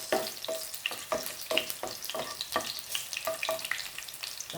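Garlic sizzles and crackles steadily in hot oil, with rhythmic stirring strokes scraping the pan throughout, close and continuous with no talking.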